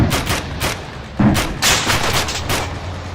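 Rifle fire in the ARMA 3 video game, several sharp shots in quick irregular succession with booming tails, close and loud with no talking.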